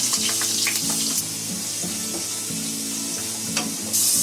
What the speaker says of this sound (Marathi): खोबरा बघा मस्त लाल भाजलाय.